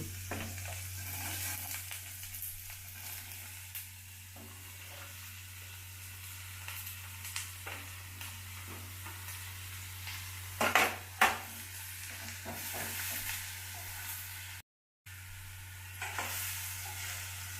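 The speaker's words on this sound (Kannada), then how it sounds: "ಒಂದು ಐದು ನಿಮಿಷ ಈ ಥರ ಇದು ಮಾಡ್ಕೊಳ್ರಿ ರೋಸ್ಟ್ ಮಾಡ್ಕೊಳ್ರಿ" Chopped ridge gourd stir-roasts in a pan, giving a soft, steady sizzle under a constant low hum, with occasional spoon scrapes and a couple of louder clatters, close by and fairly quiet.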